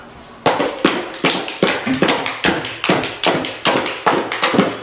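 A boxer strikes piano strings with his fist, giving about a dozen sharp, evenly spaced percussive blows, each ringing briefly before the next, close and loud.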